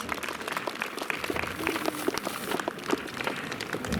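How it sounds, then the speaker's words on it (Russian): Applause at a school's last-bell ceremony for ninth-graders in a hall, a soft, moderately distant patter of many hands that stays steady without a clear ending. "Здесь аплодисменты."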